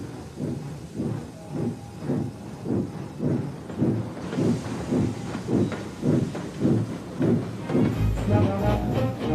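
A steam train in a Roblox game pulls slowly out of a station with regular rhythmic chuffs that pick up slightly in pace, then a hiss of steam near the end.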